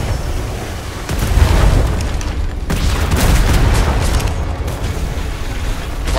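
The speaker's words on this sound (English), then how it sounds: "Why are we taking damage? Because they have cannons." Cannon fire pounds a ship in the video game ATLAS, loud rumbling booms and bursts rolling over one another in a dense, continuous barrage with no clear gaps.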